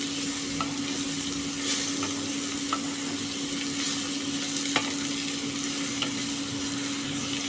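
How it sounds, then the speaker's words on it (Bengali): Ash gourd being stirred as it fries in spiced oil, a steady sizzle with occasional soft scrapes and clicks of the spoon against the pan, close and continuous with no talking. "দিয়ে এবার খুব ভালো করে একটু নাড়াচাড়া করে নেব।"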